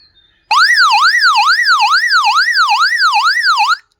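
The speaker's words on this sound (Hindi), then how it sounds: "ये आपका इमरजेंसी के सिचुएशन में अलार्म का भी काम" SOS alarm siren from an XHDATA D-608 emergency radio, a loud, close electronic wail sweeping up and down in rapid regular cycles for about three seconds before stopping abruptly.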